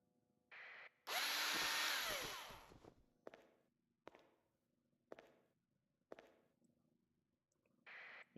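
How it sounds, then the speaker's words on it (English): A power drill in the game Space Station 14 whirs loudly for about two seconds and winds down, followed by a few sharp knocking steps and short bursts of noise, heard close with no talk. "I think the drill would go through a solid wall faster."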